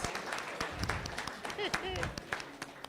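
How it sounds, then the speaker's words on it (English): During a school board meeting, an audience applauds a young student with scattered, moderately loud claps over a steady murmur of talking and crowd noise. "let's give this young man another round of applause"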